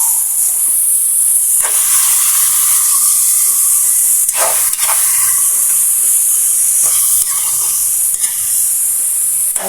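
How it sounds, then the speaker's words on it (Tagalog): Chicken sautéing in a pan for pininyahang manok, giving a steady, loud hiss and sizzle throughout, broken by a few brief stirring scrapes. "Igisa lang natin ito. Hanggang sa mag-stain yung kanyang kulay."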